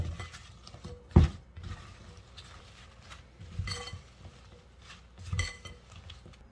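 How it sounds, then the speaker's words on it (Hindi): A spoon tosses fattoush salad with olive oil in a bowl, giving soft scraping and stirring with a few sharp clinks against the dish, close and quiet with no talk. "और इसमें मैं डालूंगी 2 खाने के चम्मच ऑलिव ऑयल के और इसको अच्छे से मिक्स करेंगे।"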